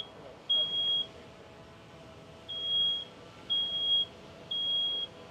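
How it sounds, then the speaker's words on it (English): A smoke alarm emits four steady high-pitched beeps at regular intervals during a fire sprinkler demonstration, fairly faint against a quiet room hum. "Smoke detectors continue going off."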